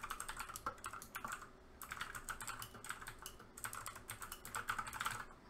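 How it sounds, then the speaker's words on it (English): Rapid keystrokes clatter on a computer keyboard in dense, close bursts, with short pauses between runs of typing. "Hear me typing away."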